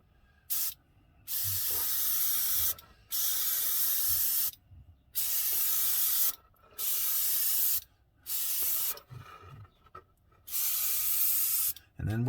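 Dark track color sprayed onto Dragon styrene model tank tracks: a series of loud, steady airbrush hisses lasting one to two seconds each, separated by short silent pauses, close and with no voices.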